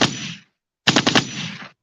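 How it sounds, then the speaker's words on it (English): A gun fires, then after a short silence a quick cluster of several shots rings out, each loud and sharp with a lingering echoing tail. "Gunshots in the morning."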